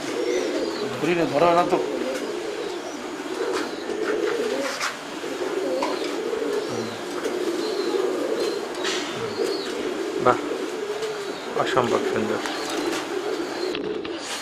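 Foreign-breed pigeons, including spangle, stencil and Andalusian racers, cooing repeatedly in soft, throaty rolling phrases close by, with people talking over them throughout.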